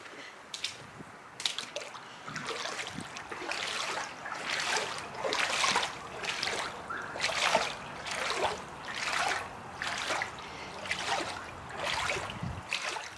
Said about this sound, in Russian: А сейчас я хотела вам показать, как работает Кёрхер.